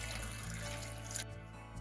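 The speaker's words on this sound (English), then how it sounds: "So I'm just going to add the water." Warm water is poured into a blender jar for a homemade detox drink, a soft, steady liquid stream that runs for about a second before cutting off.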